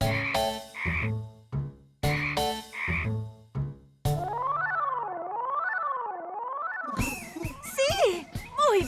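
Cartoonish frog croaks in a children's animal-sound game, a few loud clustered calls, then a stretch of looping game music with zigzagging tones and bright chirpy effects near the end.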